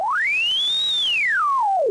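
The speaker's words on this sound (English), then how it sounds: "I've got a sine wave playing here, and I've got pitch mapped to this potentiometer on the far left" A pure sine tone from a Groovesizer Echo synth sweeps smoothly as its pitch knob is turned, gliding up, holding high, then falling back down over two seconds, loud and alone.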